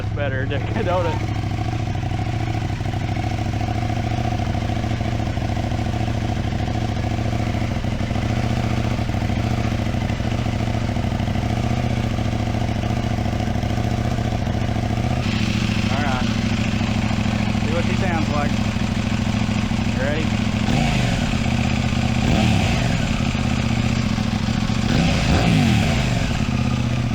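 Steady loud idle from a 2025 Husqvarna Svartpilen 801 with an Ixil slip-on exhaust, then several sharp throttle blips in the second half that rise and fall quickly, heard close by.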